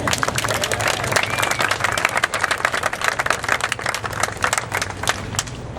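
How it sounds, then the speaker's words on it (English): An audience claps at a garden dedication ceremony, a dense, lively round of applause that runs throughout and stays loud from start to finish. "You can go ahead and clap"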